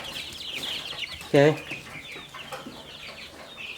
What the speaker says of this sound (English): Those are the layer pullets.